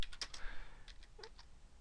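Quiet keystrokes tap on a computer keyboard, a short burst of several clicks at an uneven pace while entering an Excel formula, close and with no talk over them.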